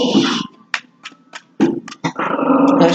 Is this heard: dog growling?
yes